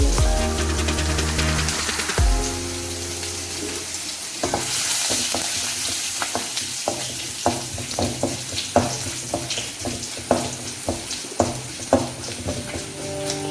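Dried chili and ginger fry in a pan for parippu curry, a steady loud sizzle with stirring scrapes and regular spoon taps against the pan.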